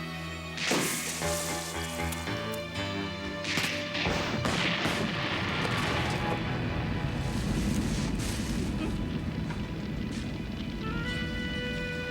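Sharp gunshots crack out repeatedly in a fast volley, loud and close, with echoing blasts running together over a dense, continuous din of gunfire. The scene is a shootout during the Prohibition-era rum-running period.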